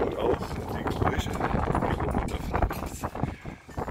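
Strong wind buffets the microphone on a hilltop lookout tower above the old town of Plauen, a steady, loud roaring rumble with gusty surges throughout, with no voice over it.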